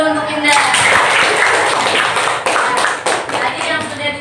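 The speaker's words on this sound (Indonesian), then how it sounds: "tepuk tangan dulu untuk Indah" A school class applauds a classmate during an economics lesson, a burst of close, lively clapping that starts abruptly, holds steady, then thins into scattered claps toward the end.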